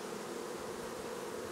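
Honeybees hum steadily at an open hive on a farm, a dense, even buzz of many insects close by with no voices over it.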